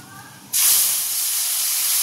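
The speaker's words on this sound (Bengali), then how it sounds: "মধ্যে দিয়ে দেবো কালো জিরে ফোড়ন, টমেটো আর কাঁচা লঙ্কা বাটা।" Nigella seeds, then a tomato and green chilli paste, hit hot oil left from frying fish, bursting into a loud, sudden sizzle that settles into a steady, close hiss.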